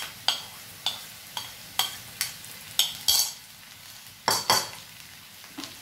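A spatula clatters against a pan in regular strokes, about twice a second, as ivy gourd (kundru) is stirred into onions and green chillies frying quietly underneath.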